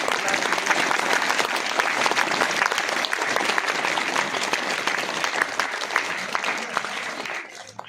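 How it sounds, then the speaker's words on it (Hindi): Children clap in a steady, dense round of applause at a school prize distribution, loud and sustained before fading away at the end. "एक बार जोरदार तालियां।"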